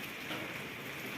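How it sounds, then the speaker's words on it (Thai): Steady rain patters and hisses in a continuous wash, with no voices. "ตอนนี้ฝนก็ยังตกอยู่นะครับ"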